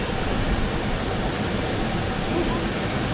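River water flows in a steady, full rushing wash at a gold prospecting spot, constant and close, with no clear talking.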